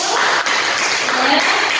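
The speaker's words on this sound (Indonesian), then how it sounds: "Tepuk tangan buat kelompok 1." Classroom applause for a student group after their presentation, a dense, steady patter of hand claps from a room of students lasting the whole short stretch, fairly close and loud.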